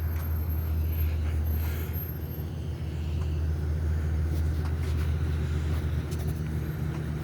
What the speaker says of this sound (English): Just a guy pulling out in his truck.